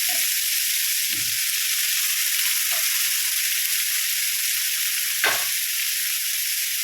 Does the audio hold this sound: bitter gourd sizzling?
yes